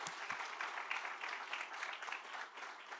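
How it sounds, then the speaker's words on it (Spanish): Sustained applause from a church congregation, a dense steady patter of many hands clapping at moderate distance for the whole span, with a few louder nearby claps early on and no talk over it. "Vamos a darle un aplauso a Dios por sus vidas"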